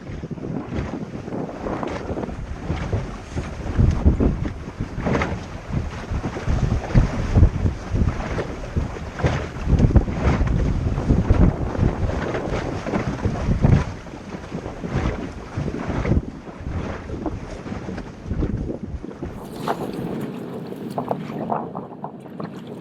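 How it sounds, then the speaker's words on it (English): A sailboat romps along in a brisk northwesterly wind, with steady loud rushing of wind noise on the microphone and water swishing past the hull throughout, easing off slightly near the end. "We're romping along with a northwesterly wind."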